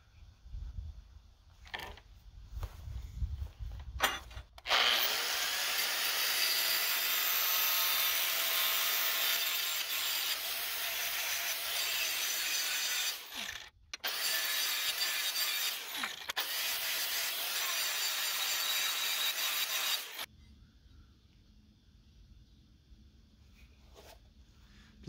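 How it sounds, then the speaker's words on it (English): A mower deck blade from a Deutz-Allis 1918 is sharpened in long, steady, loud grinding passes with short pauses between them, plus quieter handling noises at the start and end. "I'm going to sharpen the blades since that needs to be done too."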